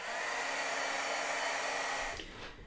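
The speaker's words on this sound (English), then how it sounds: "I'm gonna go in and heat this up to make sure it's nice and dry." A heat tool blows a steady, loud whirring stream of hot air to dry paint on a handmade card. It runs close and unbroken for about two seconds, then switches off and winds down.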